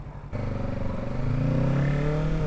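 A 2024 Kawasaki Ninja 650 motorcycle engine under way, starting after a brief quiet moment, then a steady, loud parallel-twin drone that climbs in pitch as the bike accelerates, heard close and alone.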